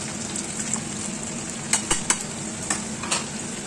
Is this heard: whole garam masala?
yes